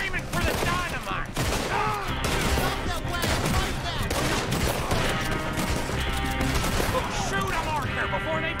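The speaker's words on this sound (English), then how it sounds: "Shoot them, Arthur, before they blow us to high hell." Rapid gunfire in a Red Dead Redemption 2 shootout during Chapter 5, with dense overlapping shots and game music forming a loud, continuous barrage while voices speak over it.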